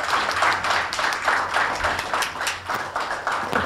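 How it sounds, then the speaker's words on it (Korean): An audience at a launch event for an election-monitoring network applauds, dense sustained clapping from many hands in waves, fairly close and loud, with no speech over it. "다시 한번 큰 박수 부탁드립니다"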